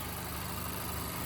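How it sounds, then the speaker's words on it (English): A 2025 Mazda CX-5 engine idles steadily up close, a constant low hum with a fine regular pulse and no voices over it. "So the engine is running."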